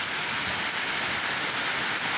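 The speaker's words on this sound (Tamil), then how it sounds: "இப்போ பாருங்கள் சத்தத்தை, மழை இன்னும் கொஞ்சம் வேகம் ஆரம்பிச்சிருக்கும்." Heavy rain pours down in a dense, unbroken roar of drops hitting surfaces, loud and close for the whole short stretch.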